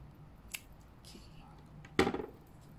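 Scissors snipping crochet yarn: a faint click early on, then one crisp close cut with a short rustle after it, set against a quiet room.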